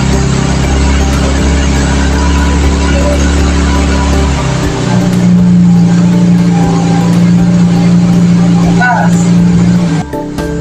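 An owner-type jeep drives off with its engine droning loud and close, a low rumble that shifts to a steadier hum midway, with voices talking over the cabin noise.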